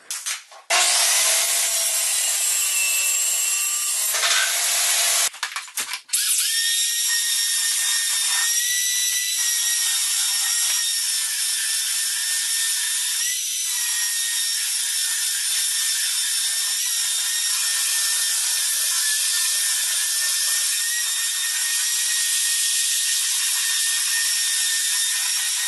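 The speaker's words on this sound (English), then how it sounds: "now I'm going to cut the back piece, which I'm going to use MDF to just give it some strength" A saw cuts through an MDF back panel for a TV media console built from reclaimed pallet wood, giving a loud, steady, high rasping cut that runs almost unbroken after a couple of brief early pauses.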